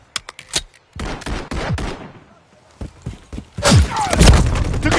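Handgun fire in a Call of Duty match restricted to pistols: sharp single shots crack in quick bursts, with a pause midway before a louder, denser flurry of close reports and thuds near the end.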